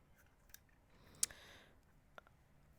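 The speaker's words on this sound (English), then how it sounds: "I'm just going to snip off about, say, 2 inches or so" Jewelry wire snipped with cutters, about two inches of wire trimmed for a beaded chain necklace, giving a few sharp, quiet clicks spread over a hushed background with no speech.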